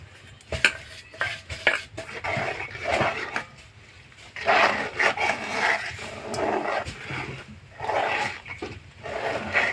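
A spoon scrapes and knocks against a pot while semolina and rice flour are stirred into hot water to form dough, with irregular close-up stirring and clattering strokes.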